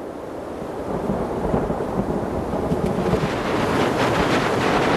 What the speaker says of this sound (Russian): Снова гроза.